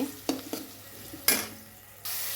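Tomatoes with turmeric and red chili powder fry quietly in a pan, a soft sizzle broken by a few sharp clinks of a spoon stirring against the metal.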